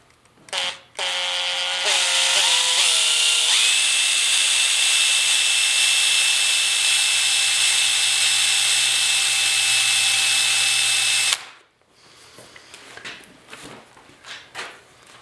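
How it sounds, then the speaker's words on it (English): Power drill with a 9/64 bit boring into a rusted steel seat pan from a 1974 Yamaha RS100 motorcycle: a few short starts, then one loud, steady high whine for several seconds before it stops, followed by faint handling noises. "I'm using a 9/64 drill bit."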